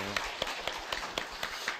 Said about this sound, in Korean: 하나님 앞에 감사 영광의 박수 올려드리겠습니다